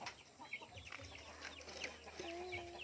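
Dekalb hens clucking softly in a breeder coop, a few short calls scattered over steady farmyard background noise with a faint sustained tone near the end.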